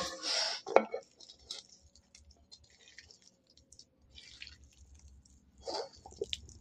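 Potatoes mixed with salt are mashed in a kadai for alu bharta, giving soft squishy squelches and a few light scrapes and clinks against the metal pan, quiet and close, with gaps between strokes.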